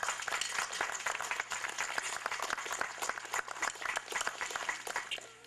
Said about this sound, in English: let's give that organization a round of applause